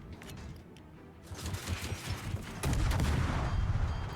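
Naval guns fire in a World of Warships tournament match, with a sharp volley followed by heavier, louder booming salvos and rumbling impacts, all alone with no talk.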